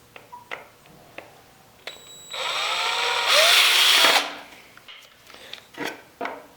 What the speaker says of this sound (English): I'm going to use this beautifully old rusty drill bit and drill out the area I need to be in